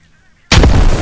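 An airsoft frag grenade goes off in a game, a single sudden loud bang after a half-second of near silence, with the blast ringing on through the rest of the moment.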